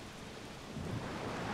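Stormy ocean in the video game Zelda Wind Waker, with a steady wash of rain and low rumbling thunder that swells slightly louder midway through the short stretch.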